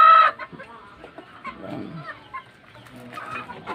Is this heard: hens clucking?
yes